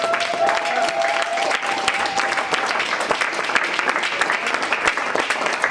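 A church congregation bursts into steady, dense applause and cheering that fills the room for several seconds, with a brief sustained tone near the start and voices mixed into the clapping.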